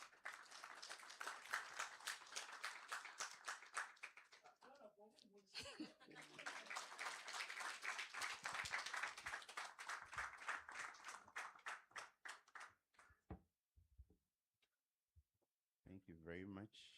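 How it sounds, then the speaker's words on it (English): An audience at a sickle cell disease conference claps to welcome a pharmaceutical company's managing director, uneven clapping broken by short pauses and a voice, trailing off into sparse claps near the end. "Let's welcome him with a round of applause."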